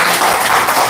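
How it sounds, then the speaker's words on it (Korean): Audience of elderly listeners at a healing class applauding together, a dense, steady wash of clapping that fills the short moment without pause. "우리 박수 한번 칩시다."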